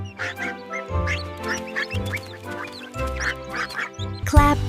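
Playful duck quacks, sung-style and rhythmic, repeating against a cheerful nursery-rhyme backing track on a duck farm theme, loud and close, with a sharp accent near the end.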